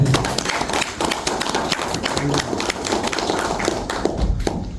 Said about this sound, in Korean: 우리 공태도 선생님을 뜨거운 박수로 환영하겠습니다